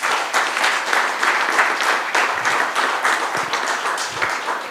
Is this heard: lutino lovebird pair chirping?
no